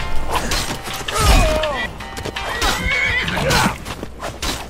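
Horse in the video game Skyrim neighing loudly with rising and falling whinnies, amid hoof clatter and combat thuds, close and repeated over a few seconds.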